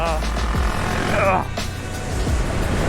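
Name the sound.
500cc motorcycle engine accelerating at full throttle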